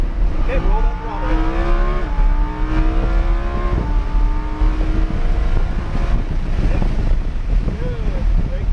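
A race car at Hallett Motor Speedway, its engine note rising in steady climbing sweeps as it accelerates, loud and close with heavy wind rumble over the microphone.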